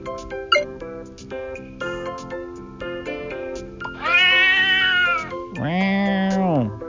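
A cat meows several times, with long drawn-out wavering cries in the latter half, loud and close over a light musical backing.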